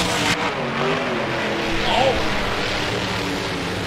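A Ford racing truck at a truck drag race gives a loud, continuous engine roar throughout, heard from some distance amid crowd and track noise.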